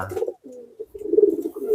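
A racing pigeon coos close by, giving a soft, throaty rolling burble that breaks off briefly and then resumes in a longer, louder phrase, with no other sounds around it.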